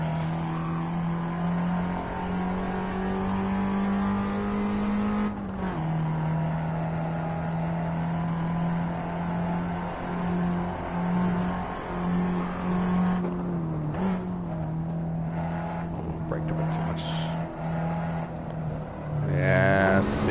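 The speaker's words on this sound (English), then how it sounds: "Definitely revving this car a bit too much." Race car engine droning at high revs during a hot lap in the racing game Assetto Corsa, a steady sustained tone that dips and climbs with gear changes and throttle, with someone talking over it.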